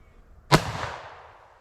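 A single sharp report from a black powder revolver, loud and close, with a bright crack followed by a long decaying rumble and ringing tail.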